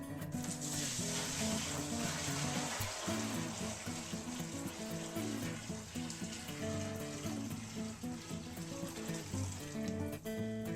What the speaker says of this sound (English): I like to pour all the water at once because it's hot.